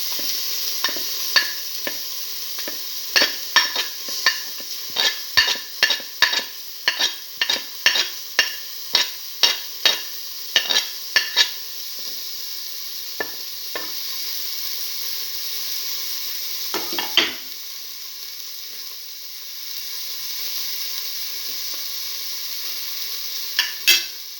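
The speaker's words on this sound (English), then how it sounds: "Saute thoroughly." Shallots and fennel seeds sizzle in a pan for a black lentil stew, a steady frying hiss under a quick run of sharp spoon-and-pan clacks that thin out, then a few more stirs near the end.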